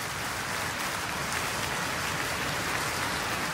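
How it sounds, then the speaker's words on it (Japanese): An audience at a piano concert in Iceland claps for an encore, a dense, even wash of many hands that stays loud and unbroken throughout. "アンコールの拍手。"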